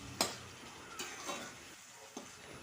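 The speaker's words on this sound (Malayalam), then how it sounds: "അതൊന്ന് ഇനി ആ വെളിച്ചെണ്ണയിലൊന്ന് കുറച്ച് നേരം ഒന്ന് മൂപ്പിച്ചെടുക്കട്ടോ" Onion, green chilli and curry leaves sautéing in coconut oil, heard as a faint, steady sizzle with a few soft stirring scrapes and taps of a spoon in the pan.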